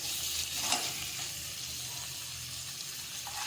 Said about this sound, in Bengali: জাস্ট শ্যালো ফ্রাই করে নিতে হবে পনিরগুলোকে